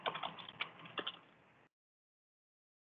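Rapid typing on a computer keyboard, close clicking keystrokes in quick bursts for about a second and a half, then silence until a brief final clatter.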